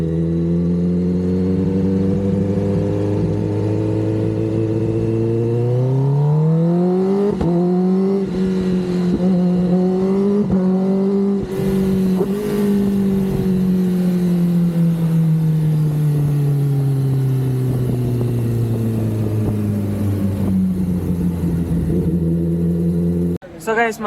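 A Kawasaki ZX-10R sport motorcycle engine runs and revs on a ride, its pitch rising sharply then holding and slowly falling, loud and continuous throughout.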